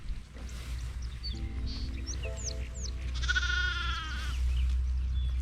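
A ewe bleats in a sheep pasture on a farm. Several wavering calls rise out of steady outdoor background noise, with faint bird chirps mixed in. The loudest bleat comes near the end.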